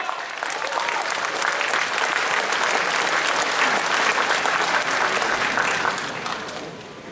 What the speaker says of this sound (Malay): Boleh tak berikan tepukan